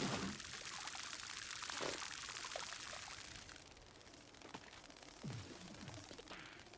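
Water poured from a watering can in the video game Grow: Song of the Evertree, a steady splashing pour running the whole time, with faint soft game sounds underneath.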